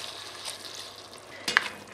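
Dry white wine is poured into a pan of shrimp bisque, giving a soft continuous sizzle that surges briefly near the end.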